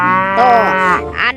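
A toy cow plays a loud, close, drawn-out electronic moo with a rich harmonic tone, and a voice speaks briefly at the end.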